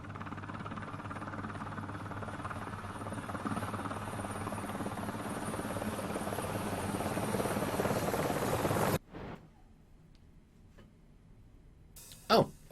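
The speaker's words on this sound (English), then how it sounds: "There's some helicopter noises." A helicopter's steady rotor drone in the video game Wolfenstein: The New Order builds slightly louder, then stops abruptly, leaving near silence with a brief burst at the end.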